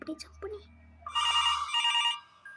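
A telephone rings in a horror video game, a brief electronic bell trill sounding after some faint game noises and a low hum, with a person talking over it.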